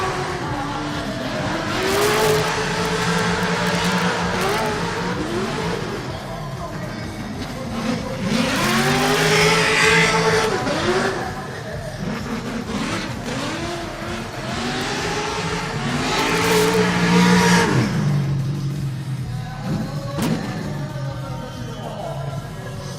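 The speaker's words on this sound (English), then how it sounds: "with the big NA sound of that V8, very easy to hear how much he was on the accelerator" A V8 naturally aspirated drift car on a qualifying run in an arena at Odaiba, engine revving hard in repeated rising and falling bursts with tire squeal, loud and sustained throughout.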